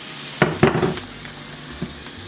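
Garlic frying in a pan for a chickpea stew, a couple of quick sizzling bursts as it hits the oil, then a softer ongoing hiss with one more faint stir, close by.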